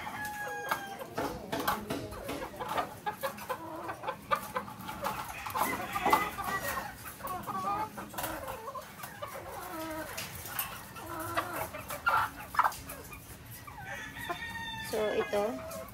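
Purebred hens, white kelso and golden boy sweater breeds, cluck continuously at close range while a rooster crows several times in a busy backyard flock, with faint talk now and then.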